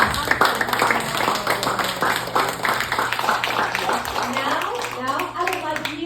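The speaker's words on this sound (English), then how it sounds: "let's give them a big applause" An audience at a members' club meeting applauds the officer team, steady clapping from many hands running throughout with voices mixed in over it.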